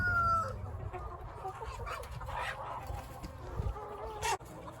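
Chickens cluck and squawk close by in a busy winter farmyard at Polyface Farm, near rabbits, with a brief rooster-like call and a sharp scrape near the end.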